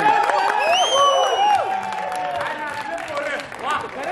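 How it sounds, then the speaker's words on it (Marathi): Audience at a Star Pravah Marathi television event applauding and cheering for reporters, a loud sustained wash of clapping and whoops. "सगळ्या आपल्या रिपोर्टरसाठी एकदा जोरदार टाळ्या झाल्या पाहिजे."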